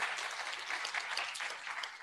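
A crowd claps steadily and loudly for about two seconds at an International Women's Day celebration, the dense applause even and unbroken with no voices over it.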